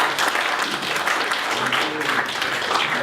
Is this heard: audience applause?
yes